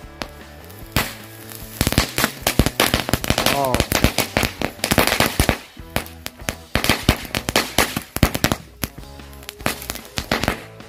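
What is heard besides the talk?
green lighting firecrackers (mercon) exploding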